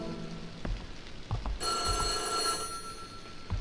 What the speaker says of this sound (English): You may hear the phone ringing now. That is actually in-game.